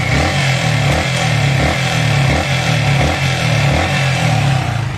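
Yamaha R15 V3 motorcycle idling during coolant bleeding at a 20,000 km service, a steady close engine idle with a rhythmic pulsing thrum and light mechanical clatter, continuous with no talk.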